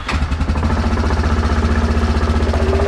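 A Yamaha Grizzly ATV engine, started after choking, chugs loudly and close with a fast, steady knocking pulse, running alone without talk.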